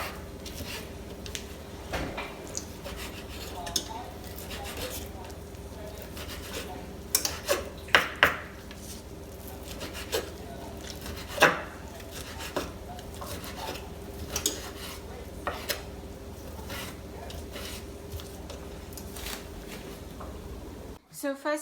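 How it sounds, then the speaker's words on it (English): Food chopped into smaller pieces on a board in a home kitchen: scattered knife taps and knocks, some clustered, some spaced, under a low steady background hum. "I'm gonna go ahead and chop this in the smaller pieces"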